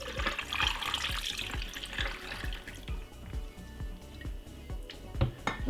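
Green juice pours into a glass of ice, a continuous close liquid gush with faint crackling, easing off into small drips and trickles toward the end, no talk.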